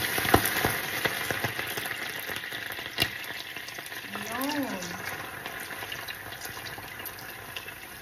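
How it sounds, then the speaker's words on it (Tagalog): Ingredients for a low budget pancit sizzle and fry in a pan, a steady crackling hiss with scattered clinks and stirring scrapes, close up, while a person speaks briefly over it. "Tapos, gisa-gisa."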